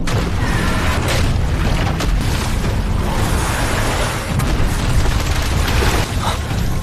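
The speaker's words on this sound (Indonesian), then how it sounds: "tiba-tiba saja tubuh dari monster yang memakan kristal ungu meledak" A monster's body exploding in an animated fantasy scene, a loud, dense, sustained roaring blast that fills the whole stretch with rumbling booms and no pauses.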